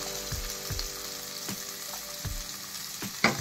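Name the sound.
vegetables frying in a pan for masala upma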